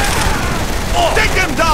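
A dense fusillade of gunfire in the Saints Row: The Third video game, with loud rapid shots layered into a continuous roar and characters shouting over the combat.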